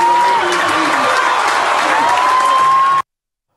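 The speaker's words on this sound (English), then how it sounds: "the applause by the congregation says it all" Applause from a church congregation fills the whole stretch, a steady dense clatter of many hands at close range that cuts off abruptly, with a faint sustained tone running beneath it.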